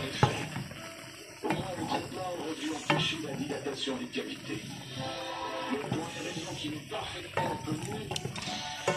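Okra being stirred into a pot for gombo sauce, with busy scraping and clattering of a spoon against the pot over a faint sizzle, heard close while a person talks throughout.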